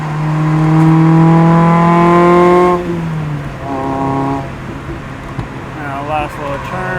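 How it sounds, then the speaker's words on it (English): Mazda Miata engine on a backroad downshifting to third gear, a loud steady drone that drops in pitch, then revs briefly rise and fall under a voice talking. "Downshift to third here too."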